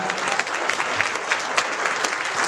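Audience applauding schoolchildren at a school complex during an International Human Rights Day ceremony: steady, dense clapping from a sizable crowd, continuous and fairly loud throughout.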